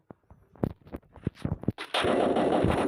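A quick series of sharp gunshots pops from a firearm in the Free Fire battle royale game, irregular and close, before a dense, steady blast of noise takes over for the last second.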